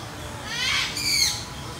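Caged birds at a plant nursery give a pair of loud, close, harsh squawking calls, one after the other, over a steady low background.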